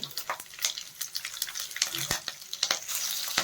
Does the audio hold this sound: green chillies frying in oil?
yes